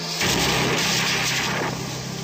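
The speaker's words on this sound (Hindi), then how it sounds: "गाजा शहर के पुलिस प्रमुख तासीर बख्श के मकान पर इजरायली मिसाइल बिना किसी वार्निंग के आकर गिरती है" An Israeli missile strikes a house in Gaza City, heard as a loud, sustained roaring blast that fills the whole short clip, harsh and close.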